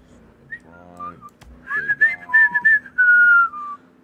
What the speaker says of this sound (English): Nothing less suspicious than a bunch of people slowly whistling as they drive past some police